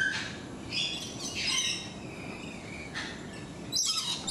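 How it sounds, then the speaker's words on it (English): Parrots squawk in a bird park, with several harsh, shrill calls spaced across the span over a busy background of chirps and insect buzz. "let's check out the world of parrots"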